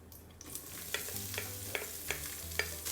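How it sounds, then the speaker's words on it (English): Thinly sliced red onions fry with star anise and other whole spices in a rice cooker pot, a soft steady sizzle broken by several sharp scraping clicks of a spatula stirring, close and fairly quiet. "I'm going to fry the onions until they are light golden brown"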